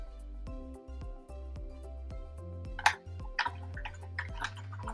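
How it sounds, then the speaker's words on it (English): Paintbrush rinsed in a container of water: soft repeated drips and swishing splashes that build toward the end, close and fairly quiet, with no talk. "clean off your brush, rinse it, Rinse your brush"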